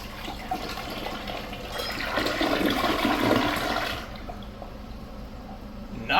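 Gerber Aquasaver third-generation toilet flushing, a rising rush of water swelling over a few seconds, then trailing into a quieter refill hiss, heard alone.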